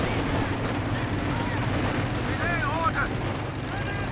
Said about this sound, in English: constantly having to dodge artillery